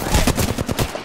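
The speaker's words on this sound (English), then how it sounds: "Listen up, I'm getting shot at." Rapid automatic gunfire from the Apex Legends video game, loud and close, with a steady run of sharp shots firing several times a second.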